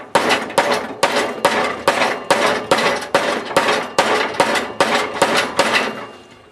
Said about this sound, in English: I'm going to hit it with another hammer and try and get this to break loose.